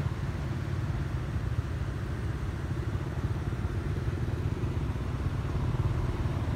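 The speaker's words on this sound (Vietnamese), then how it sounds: "Xe máy mình còn di chuyển được chứ ô tô là đứng yên luôn rồi các bạn." At a congested three-way road junction in Tiền Giang, motorcycles and stalled cars create a dense, constant engine rumble. Many idling and creeping motors blend into an unbroken drone, with no distinct voices.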